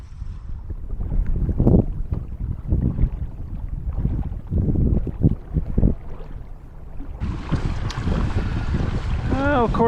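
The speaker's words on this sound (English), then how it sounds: "the wind's starting to pick up again as soon as I came out to the main lake" Wind gusts buffet the microphone out on a lake during winter kayak fishing, producing a low rumbling roar that swells and fades, with water and boat sounds mixed in and a brief voice near the end.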